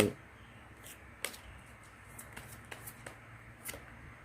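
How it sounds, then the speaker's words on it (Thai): Tarot cards are drawn and shuffled by hand, giving faint, sparse snaps and soft flicks against a quiet, hushed room. "ขอไพ่ทับพิเศษให้คนวันอาทิตย์หนึ่งใบ"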